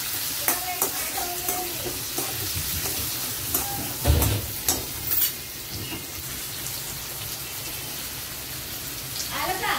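Sliced onions and curry leaves sizzle in hot oil for kanda poha, with steady broadband frying and intermittent scraping stirs, a louder clatter near the middle, and faint voices talking underneath.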